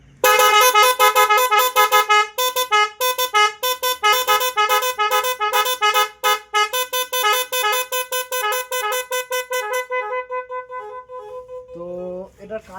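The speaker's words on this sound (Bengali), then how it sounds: "আমরা শাক হরেন লাগিয়ে নিয়েছি গাড়ির মধ্যে," A shock horn fitted to a motorbike blares in loud, rapid repeated bursts with a shifting tone pattern, running for about ten seconds before stopping, followed by a short murmur of speech.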